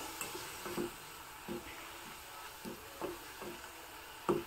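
Ingredients for a traditional rice dish frying quietly in a pan, a soft sizzle under repeated scraping stirs of a spoon, each stroke a brief clatter every half second or so.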